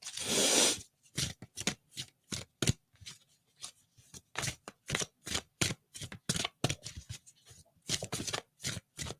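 Tarot cards being shuffled and pulled from a deck in a series of close, crisp riffles and slaps with short pauses between them, heard alone.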